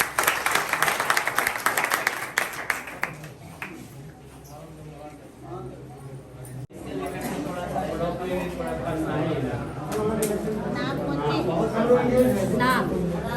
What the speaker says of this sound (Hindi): बस दिलीप बाबू के लिए ताली दे दीजिए।